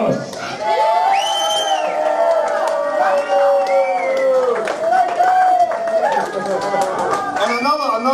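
Crowd at a live gig in a club cheering and whooping, with bursts of clapping and a busy wash of voices, loud and continuous with shouts rising over the noise.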